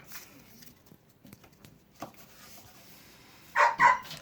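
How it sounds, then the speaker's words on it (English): A dog gives two loud, close barks in quick succession after a quiet stretch with faint background sounds. "That's why she's barking so loudly."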